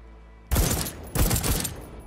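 Gunfire in the first-person shooter Deathloop, fired single shots at bottles: two loud, close bursts of shots with sharp attacks and ringing tails, separated by a short lull.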